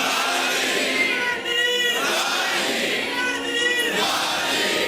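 A large crowd of young men chant slogans at a religious Eid Milad-un-Nabi gathering, loud and continuous with rising and falling rhythmic pulses of many voices shouting together.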